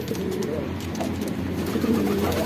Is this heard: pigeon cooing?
yes